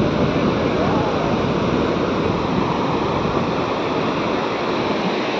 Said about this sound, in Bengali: তো একদম গর্জনের সঙ্গে সঙ্গে ঢেউটা চলে আসছে